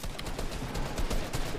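Rapid gunfire from a first-person shooter game, a dense continuous burst of overlapping shots with no pauses, loud and steady throughout.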